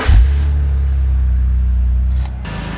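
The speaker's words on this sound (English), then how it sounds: "we're getting ready to fire it up, top it off with coolant" A car engine cranks and catches after a cooling system overhaul, settling into a steady low rumbling idle that runs throughout before dropping slightly near the end, with a brief click or rattle in between.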